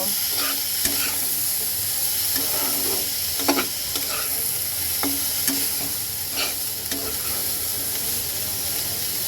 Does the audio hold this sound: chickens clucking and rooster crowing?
no